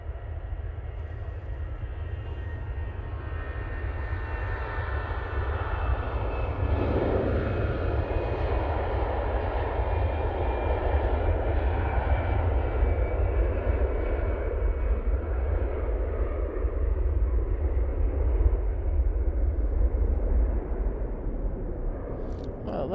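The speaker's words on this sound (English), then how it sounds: "There goes that EasyJet off to Athens" An EasyJet airliner takes off from Manchester Airport bound for Athens, its engines a loud, broad roar that swells a few seconds in and holds strongly before easing slightly toward the end; no one speaks.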